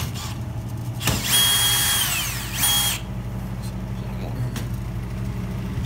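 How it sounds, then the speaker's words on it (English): A power drill runs for about two seconds while taking screws out, a loud whining burst with a rising pitch that cuts off, then quieter background with a faint voice. "So you're just gonna take these screws out."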